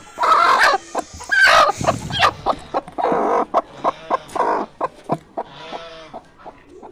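A hen brooding eggs in a basket on a rooftop pigeon house clucks repeatedly and loudly up close, with a rhythmic run of short clucks and some longer squawking calls.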